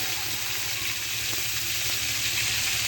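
Pangas fish frying in its own rendered pangas fish oil in a pan, giving a steady, continuous sizzle with a constant low hum underneath, close and even throughout, with no talking.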